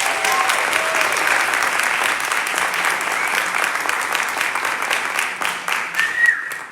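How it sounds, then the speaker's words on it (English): Audience applause at a poetry recitation state finals, dense steady clapping from a full hall that holds for several seconds before thinning slightly near the end. "Another round of applause, please."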